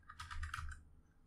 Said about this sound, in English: I don't like typing, man.